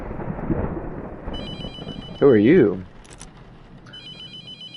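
A telephone rings with a repeating electronic warble inside The Mortuary Assistant horror game, bright tones cutting in and out around a louder wavering cry, with a person talking over it.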